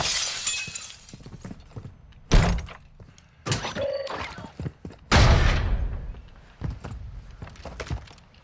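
Sniper fire in a Modern Warfare II match: a few sharp, loud cracks with long decaying tails stand out against quieter background noise, with impacts spaced about a second or two apart.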